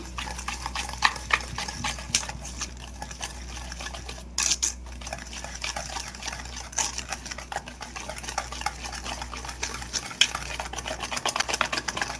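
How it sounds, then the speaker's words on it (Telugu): Curd being mixed into semolina batter for an upma rava cake, a soft wet stirring with rapid, irregular clicks of the spoon against the bowl, close and continuous, with no voices. "పెరుగు కూడా బాగా మిక్స్ చేసుకోవాలి. ఉండలు లేకుండా మనం కలుపుకోవాలండి."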